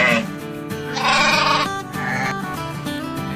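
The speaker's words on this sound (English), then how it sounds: "big size sheep, beautiful sheep" A large sheep bleats repeatedly in loud, close, wavering calls, with several drawn-out cries following one another and no talking over them.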